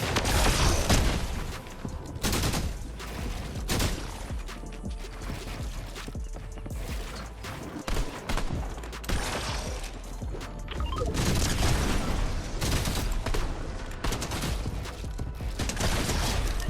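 Fortnite War Machine auto turret firing in a video game, a loud, dense stream of rapid gunfire bursts and impacts running continuously without pause.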